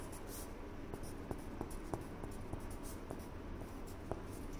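Pen scratching on paper during a lecture on RF power gain expressions: faint, intermittent strokes and taps close by, with a soft background hiss.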